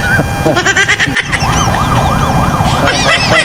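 A wailing ambulance siren rises and falls repeatedly, loud and fairly close, over traffic noise and a few faint voices.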